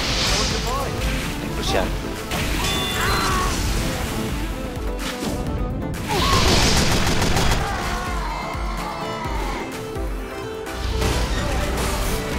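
Sentry gun in Team Fortress 2 firing in rapid, sustained bursts amid other game combat, running under nearly continuous talk.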